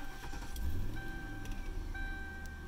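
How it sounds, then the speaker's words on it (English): A Ford Crown Victoria's engine turns over and settles into a steady, close, low idle rumble, with a faint electronic tone running above it. "Let's go ahead, turn on the car,"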